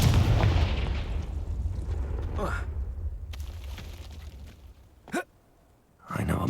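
A Confringo fire spell explodes in the Hogwarts Legacy video game, a loud booming blast with a rumbling tail followed by a couple of sharp bursts near the end.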